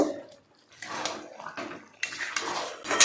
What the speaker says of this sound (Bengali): আর একবার ভালো করে এটাকে নাড়িয়ে নেব